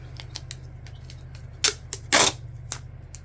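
Cover material for a handmade journal being trimmed, with a few sharp, close cutting snaps and crisp clicks scattered over a quiet background, the loudest pair near the middle.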